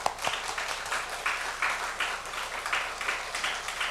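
A church congregation applauds together in a steady, dense wash of clapping that holds at an even level from start to finish, with no voices standing out above it.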